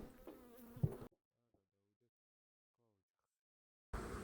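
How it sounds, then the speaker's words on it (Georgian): Honey bees buzz loudly at an open hive for about a second, then the sound cuts to near silence before a burst of noise at the end. "ეხლა აღარ შევაწუხოთ ჩვენი ფუტკრები"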